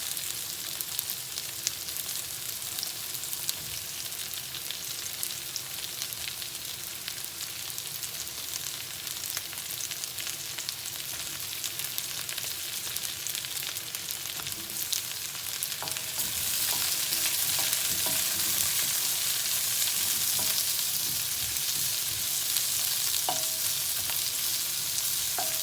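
Zucchini and chili fry in a pan for a butternut squash gnocchi primavera, giving a steady close sizzle with occasional stirring that grows louder and brighter partway through. No one speaks.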